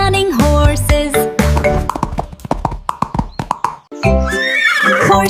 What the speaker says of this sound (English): Two strong horses, running horses.